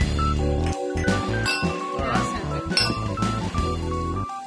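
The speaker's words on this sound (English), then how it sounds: "The clinking here you can hear in the background is people here in Melbourne" Glasses clink now and then in the background of a crowded Melbourne pub, nearly buried under steady music and chatter.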